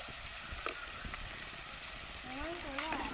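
Tomatoes and onions sauté in a pan for a tamarind bitter gourd curry, giving a steady soft frying hiss with a few light taps, while a faint voice-like sound rises near the end.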